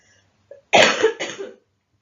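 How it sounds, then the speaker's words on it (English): A close, loud cough comes in two quick rough bursts after a brief intake of breath, then quiet. "sorry, keep coughing"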